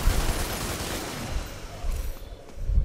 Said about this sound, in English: Dante's bullets seem to fire pretty fast.